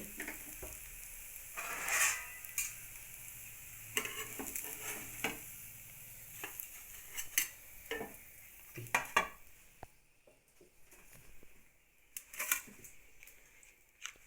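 Upma pesarattu roasts on a pan with a soft sizzle under scattered scrapes and taps of a spatula, faint and close, with quieter stretches between strokes.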